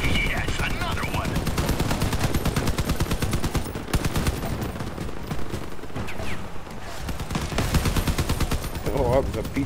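Rapid automatic gunfire and repeated shots from vehicle weapons in an online multiplayer battle in the game Crossout, steady and loud throughout, with voices talking over the shooting.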